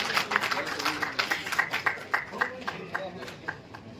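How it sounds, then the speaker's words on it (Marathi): At a journalism award ceremony, an audience claps in a scattered, rhythmic patter of moderate loudness, heard together with a speaking voice for four seconds. "उपस्थितांना विनंती करतोय की आपण टाळ्या वाजवल्या पाहिजे"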